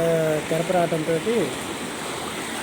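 Floodwater from a swollen stream rushes beneath a bridge after a cyclone, a steady broadband roar that continues alone after someone speaks over it at the start.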